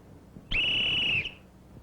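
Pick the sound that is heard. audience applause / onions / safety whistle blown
safety whistle blown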